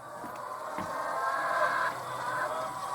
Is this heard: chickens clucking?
yes